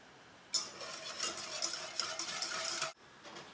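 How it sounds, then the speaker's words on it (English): A whisk scrapes and stirs cornstarch into skim milk in a pot on a stove over medium heat, a quick rhythmic run of metallic swishing that starts abruptly, continues for a couple of seconds, then stops. "I'm just going to whisk that in."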